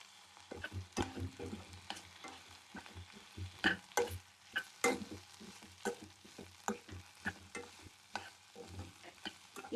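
Ginger and garlic fry in a pan for chicken curry, stirred in quick repeated scraping strokes over a soft sizzle; the sound is fairly faint and rhythmic, without speech.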